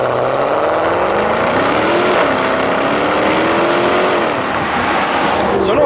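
A restyled Maserati Quattroporte GTS V8 sedan of nearly two tonnes drives on the road, its engine loud and close, pitch rising and falling through gear changes as it accelerates, with cabin and road noise beneath.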